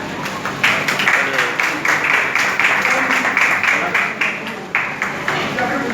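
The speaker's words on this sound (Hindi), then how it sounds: "तालियां बजती रहनी चाहिए" Audience applause at a BJP ward event in Babarpur, Delhi, with continuous crowd clapping running under loud speech from a speaker throughout.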